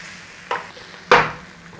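Brisket cheesesteak meat sears in a hot pan, two sudden bursts of loud close sizzling, the second bigger and slowly fading into a low hiss.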